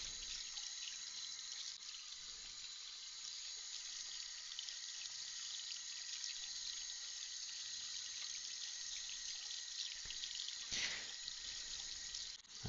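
Hot water runs steadily from a tap while plastic game controller parts are washed under it, a continuous broadband hiss lasting throughout, close and fairly loud, with a brief splashy surge near the end.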